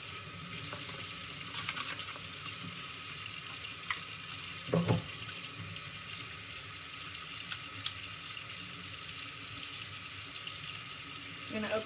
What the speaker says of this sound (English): I fill it with hot water, stick all the pieces inside.